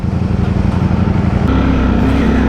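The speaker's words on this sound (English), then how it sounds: "Sorry about riding all this traffic." A Ducati Streetfighter V4S motorcycle engine drones loudly and steadily from the rider's seat, with a pulsing rumble that settles into a higher sustained tone partway through and road noise beneath.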